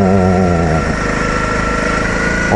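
A Honda CB motorcycle engine drones steadily and loudly nearby, its pitch dipping slightly and then rising again near the end.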